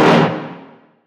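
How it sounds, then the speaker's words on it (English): A synthesized dark, low mono dubstep brass stab hits once, loud and buzzy with a thick harmonic body, then decays over about a second to silence, heard alone. "So this is the dark, low mono brass."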